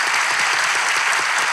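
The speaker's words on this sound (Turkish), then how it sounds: "Onları alkışlayalım." A studio audience at a Turkish relationship-test talk show applauds, a dense, loud burst of clapping with no break throughout.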